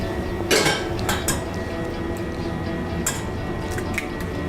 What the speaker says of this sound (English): You need to start whisking that quite quickly, wouldn't you?